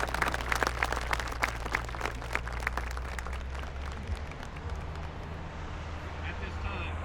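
At an army basic combat training graduation, an outdoor crowd claps for the graduating soldiers, sharp individual claps at first that thin and fade over several seconds, with a low wind-like rumble and murmuring voices underneath.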